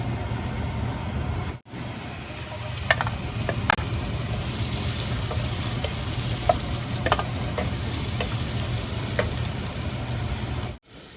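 Onion fries in oil while being stirred, browning for a Murgh Musallam, a continuous close sizzle with scattered scraping clicks, cut by two brief dropouts.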